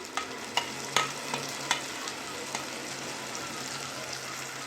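Ground masala paste stirred into sautéed onions in a pan for oil-fried brinjal kuzhambu, giving a few light scraping clinks over a soft, steady sizzle, close and fairly quiet.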